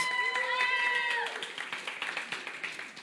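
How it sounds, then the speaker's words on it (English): An audience claps for Everly after she finishes a class lesson. A voice is heard first, then a burst of scattered, lively applause from a nearby group fills the rest of the moment. "Give Everly a round of applause."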